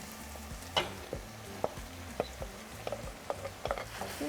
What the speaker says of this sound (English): And now we're going to add our potatoes.